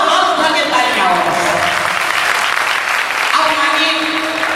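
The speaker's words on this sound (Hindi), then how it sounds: "दोनों हाथ उठा के तालियां हो।" An audience at a Mahaveer Jayanti programme clapping with raised hands, loud sustained applause from many people close by, with a voice briefly audible over it.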